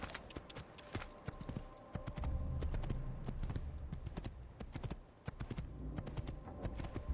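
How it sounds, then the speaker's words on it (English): Horse hooves clip-clopping in a video game, a steady close rhythm of hoofbeats throughout with no talk. "let us get off our horse"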